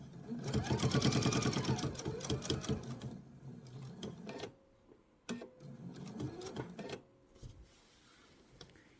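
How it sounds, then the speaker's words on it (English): Sewing machine stitching a straight seam on fabric for a laptop sleeve, a rapid mechanical whir that runs loud for several seconds, then stops and restarts in shorter bursts with quieter handling sounds between. "I'm going to sew off straight"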